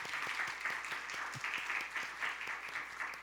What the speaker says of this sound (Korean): 우리 한 번 더 박수 해줄까?